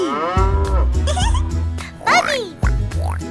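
Cartoon cow moos in a children's animated song, two or three drawn-out bellowing calls over bouncy music, loud and close.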